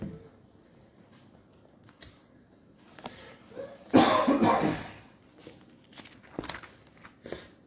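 A single loud, close cough at a microphone in a church service, a harsh burst lasting about a second amid quiet room noise and faint shuffling.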